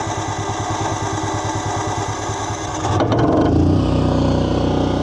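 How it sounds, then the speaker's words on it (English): A generator on an Adventurer 86FB truck camper starts up: a rapid rhythmic cranking chatter gives way after about three seconds to a louder, steady running drone, close by. "Generator starts up and runs just fine."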